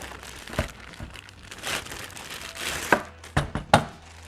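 Plastic bags from a Yakima FrontLoader rooftop bike mount package are opened and handled, giving irregular crinkling and rustling with a few sharper crackles, close and alone.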